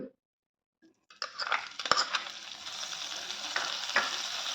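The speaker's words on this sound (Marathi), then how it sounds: "हे बघा कढई घेतली तर बटर घालते थोडं एक टेबलस्पून बटर घेतलं मी" Butter, about a tablespoon, sizzles and crackles in a hot kadai as a cream of mushroom soup gets started, beginning after a short quiet pause and settling into a steady, close frying hiss with a few metallic clinks.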